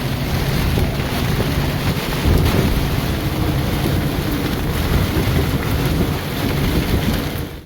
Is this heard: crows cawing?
no